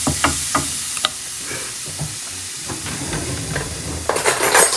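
Vegan butter melts in a hot pan, giving a steady sizzling hiss with scattered sharp clicks and light utensil taps against the cookware, close and clear.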